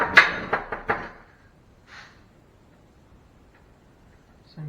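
Three quick taps drive a pin into a door hinge on a 1957 Chevrolet, sharp close metallic knocks in the first second, followed by quiet with a faint sound partway through.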